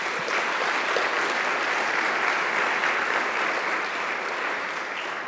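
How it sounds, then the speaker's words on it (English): A crowd claps steadily at a community inclusion awards ceremony, a sustained and fairly loud round of applause from many people that carries evenly from start to finish with no talking over it. "let's give him a big round of applause, even though he's not here."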